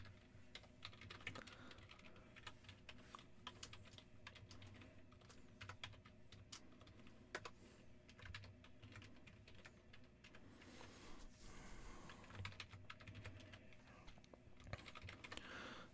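Rapid clicking of keys on a computer keyboard continues throughout, uneven bursts of typing close by in a quiet room.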